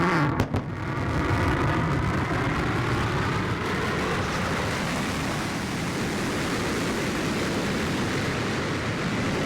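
Blue Origin New Shepard booster relighting its BE-3 rocket engine on descent, a sustained loud broadband roar that swells within the first second and then holds steady, rumbling and hissing without a break.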